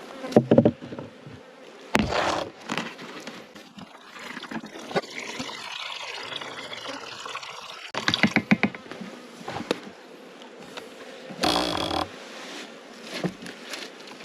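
Honeybees buzz densely around an open beehive as a top feeder is fitted, a steady close swarm drone with louder bursts as bees pass near, no talking.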